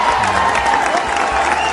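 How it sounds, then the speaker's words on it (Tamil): A packed audience at a Vijay Sethupathi event roars with loud, continuous cheering and applause, a dense crowd din that holds steady throughout. "விஜய் சேதுபதி பில்லா அப்படின்னு சொன்ன உடனே அங்கே இருந்தவங்கெல்லாம் பயங்கரமாக ஆரவாரம் பண்ணாங்க"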